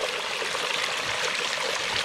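Water from a garden water feature spills over the top of a log, giving a steady, close rush of splashing and trickling with no pauses.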